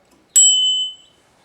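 A single bright bicycle bell ding from a Cruzbike Quest handlebar rings out clearly and alone, its metallic tone sustaining for about half a second before fading.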